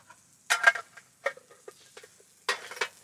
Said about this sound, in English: I just brought a steamed broccoli and I'm gonna cook it one more time